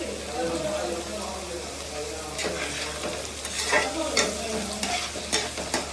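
Onions with green chili and a little salt fry in a pan until reddish, a continuous sizzle with repeated spoon scrapes growing busier toward the end, under a low voice talking.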